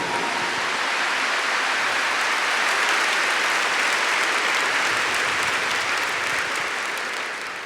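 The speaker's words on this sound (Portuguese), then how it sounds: "Give a big clap to this great Pope." Sustained audience applause at a Catholic deliverance-ministry gathering, a dense steady wash of many hands clapping for the full length, fading slightly at the end.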